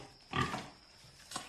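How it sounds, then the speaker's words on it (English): The governor's pig in a BBC radio comedy adaptation of Uncle Fred in the Springtime gives two short oinking grunts, the first louder and the second brief, close to the microphone with no talk over them. "The governor's pig."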